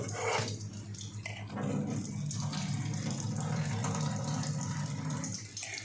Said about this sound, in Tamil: இப்போ இந்த தண்ணியை இருத்துடலாம்.